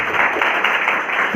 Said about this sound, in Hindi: जोरदार ताली होनी चाहिए सर के लिए